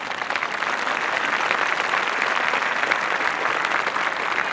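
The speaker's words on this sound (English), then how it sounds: "And that, ladies and gentlemen, deserves a round of applause." Awards ceremony audience applauding at a facade and fenestration excellence event, a steady, dense wash of clapping that holds evenly throughout with no talk over it.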